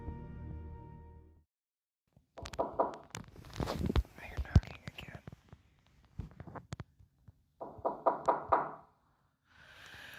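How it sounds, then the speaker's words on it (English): Creepy knocking on a door, sharp hollow raps arriving in short clustered bursts between stretches of near silence, with whispering heard around them. "The moment he hears the creepy knocking noises coming at the door"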